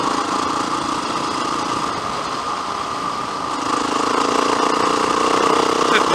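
A loud motorcycle engine drones steadily at close range on a gravel road ride, a constant buzzing rumble that builds slightly toward the end.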